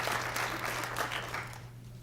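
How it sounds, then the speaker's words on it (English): Brief applause from employees at a company update meeting, a short burst of scattered clapping that fades out within two seconds over a low background hum. "Yeah, clap for Tim"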